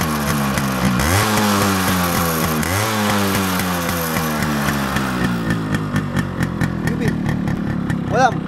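Yamaha RX100 two-stroke motorcycle running while ridden, its buzzy engine close and loud with two rising rev sweeps early, then choppy throttle blips toward the end.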